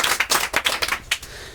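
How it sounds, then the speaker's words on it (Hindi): Studio audience applause welcoming a contestant onto the hot seat at a Hindi quiz show, a short burst of several rapid, uneven claps that fade out within about a second and a half. "एक बार जोरदार ताली से इनका स्वागत किया जाए।"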